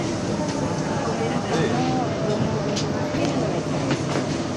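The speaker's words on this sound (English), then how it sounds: "recording the train ride for the video" Riding a metro or rail line with a steady loud rumble of the moving train, faint clicks and squeals over the rails, and people talking in the carriage throughout.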